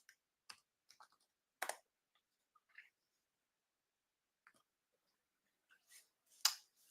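Sparse, quiet keystrokes on a computer keyboard, a few isolated clicks and short bursts scattered across near-silence, close and crisp with irregular rhythm.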